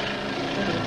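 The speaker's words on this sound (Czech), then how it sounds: "Vrtulník K-15M má totiž speciální zařízení pro chemické ošetření rostlin." A K-15M agricultural helicopter, fitted with crop-spraying equipment, drones steadily with a dense, continuous engine and rotor roar, with no talk over it.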